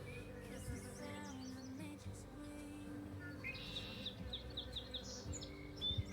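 A wild swarm of bees makes a continuous low buzzing drone outdoors, faint but steady, with birds chirping in the background.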